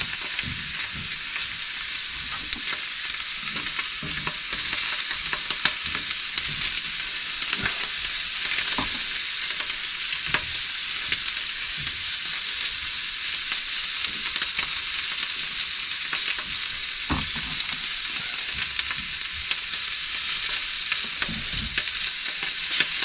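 Steak frying in a pan at a woodland campsite beside a VW T4 camper van, a loud steady sizzle with crackling pops running unbroken with no talk.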